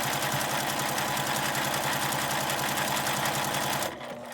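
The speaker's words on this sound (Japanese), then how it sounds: "端ミシンをきれいにかけるには、指でこのラインを固定して" A sewing machine stitches along the edge of a fabric lunch bag, a loud, close, rapid mechanical whirring with an even pulse that runs steadily, then stops abruptly near the end, leaving quiet room noise.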